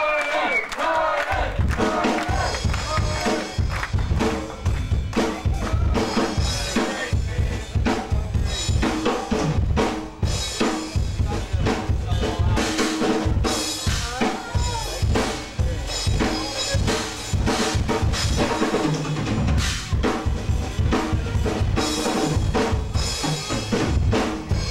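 Live concert audience at El Roi's in Marshall, Missouri, chanting a name over and over in loud, rhythmic group shouts, with cheering and rowdy crowd noise throughout.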